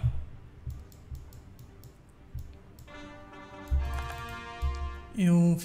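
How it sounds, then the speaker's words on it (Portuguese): Quick mouse clicks tick away in bursts at a computer during a session of Europa Universalis IV, a few separate clicks first, then a denser run of rapid clicking near the end, with faint background tones. "Eu fiz vários cliques daquele jeito porque eu tô tentando mandar mais de um regimento para os devidos lugares"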